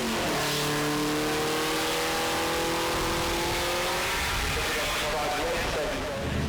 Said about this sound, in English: when Max von Pine agreed that they would get the W165 going again and bring it